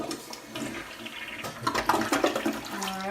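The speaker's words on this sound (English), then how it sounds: "Okay, so you want to flush it?" A hotel bathroom toilet flushes close by, a rushing gush of water that builds and swirls before a gurgling refill starts near the end.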